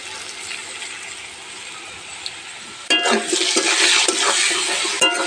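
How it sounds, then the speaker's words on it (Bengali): Turmeric and salt are stirred in a cooking pan, first a soft background hiss, then louder scraping, rattling strokes with a bright sizzle, ending in a couple of sharp clinks. "দিয়ে আর একটু নাড়িয়ে চাড়িয়ে নিলাম।"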